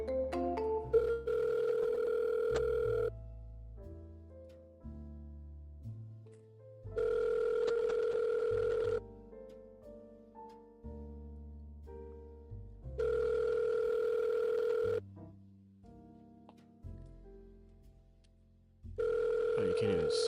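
An outgoing call rings back on a telephone line in four evenly spaced tones of about two seconds each, with soft background sounds and faint voices in the gaps.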